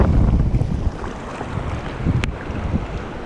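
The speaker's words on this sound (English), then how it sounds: "today is kind of a stormy day" Strong gusting wind buffets the microphone, with rough churning waves beneath, loud and continuous.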